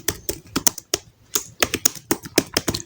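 Someone types on a computer keyboard while writing in Microsoft Word. Close, crisp keystrokes come in quick, uneven bursts with short pauses and no talking.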